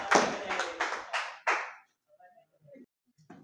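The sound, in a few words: students clapping for a classmate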